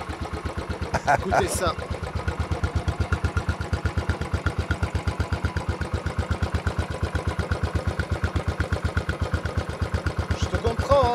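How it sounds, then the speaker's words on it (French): A Royal Enfield Bullet 500 single-cylinder motorcycle engine, just kick-started, idles with a deep, steady, evenly spaced thump throughout, close and loud, while someone speaks briefly over it near the start. "Ma première moto que je démarre avec un kick."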